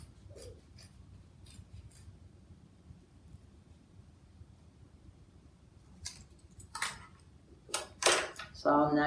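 Scissors snip a feather shape out of a sheet of foam, a few quiet, crisp cuts clustered near the end after a long hushed stretch of faint rustling.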